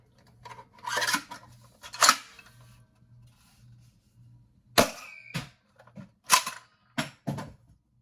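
The second Breacher prototype foam dart blaster being handled, loaded and fired: scraping clicks of shells and the action, followed by several sharp, close snaps and pops in uneven bursts, with no talking.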